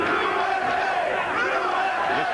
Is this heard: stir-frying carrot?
no